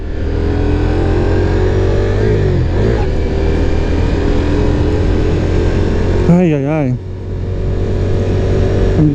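A Ducati Diavel V4 motorcycle engine runs loud and close with a steady rumble, then rises and falls in a wavering rev near the end as it pulls away, with wind noise throughout.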